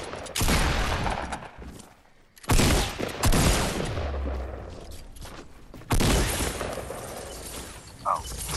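Sustained minigun fire in the video game Fortnite, loud dense bursts of rapid shots in three long stretches separated by brief pauses, with game sound effects mixed in.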